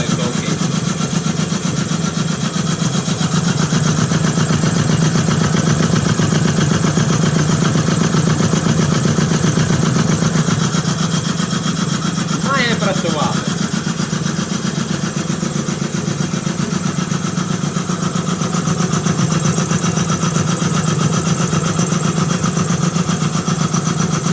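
A flushed compressor runs steadily, its loud continuous mechanical drone holding level throughout with a brief rattling burst midway.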